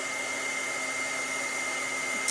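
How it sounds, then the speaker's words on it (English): A heat gun melting powder on a butterfly craft piece runs steadily with a constant hair-dryer-like whoosh and whine, close and alone, with no speech over it. "So I'm going to turn on the heat gun."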